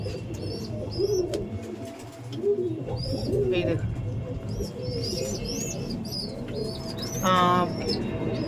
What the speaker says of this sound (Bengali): এই দেখুন পাঞ্জাবি পায়রা